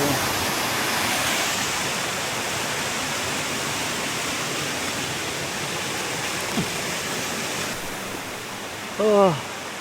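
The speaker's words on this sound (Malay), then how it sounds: "air terjun" A steady roaring rush of falling water from a waterfall along a 50 km walk at Tanjung Malim, broad continuous noise, loud and close, with a brief voice near the end.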